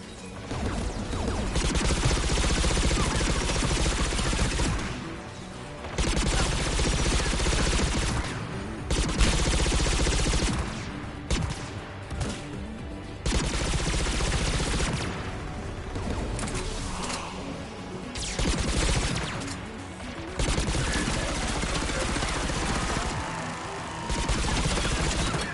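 Heavy, sustained gunfire and explosive crashes from a Mass Effect 3 battle, dense loud bursts running almost continuously with a few short lulls, no talk.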